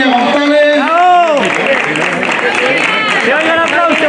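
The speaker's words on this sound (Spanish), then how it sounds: "¡Se oye el aplauso!" Crowd clapping at the award ceremony of a local footrace in Dos Torres, Córdoba, steady and fairly loud, with shouting voices and babble rising over the applause throughout.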